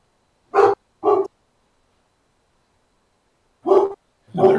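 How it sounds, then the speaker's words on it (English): A dog barks in two pairs of short, loud, close barks, with a pause of silence between the pairs and no voices. "And there goes the dog."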